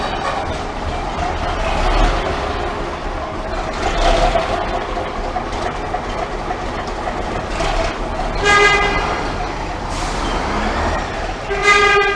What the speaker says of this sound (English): So I'm just following this bus coming out actually.